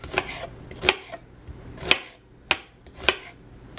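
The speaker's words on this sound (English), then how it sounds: "Now how to cut onions." Onions being cut on a board for homemade ketchup, heard as a handful of sharp, close knife chops spaced unevenly, with quiet gaps between strokes and no talk.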